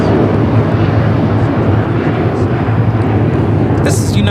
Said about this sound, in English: This is United Airlines 1431 taking off to Honolulu on the 757-300